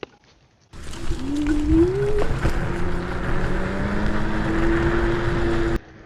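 An AUSOM L1 ABE electric off-road scooter in race mode rides through a small city on a cold autumn day, with a steady electric-motor whine that climbs in pitch over continuous wind and road rush.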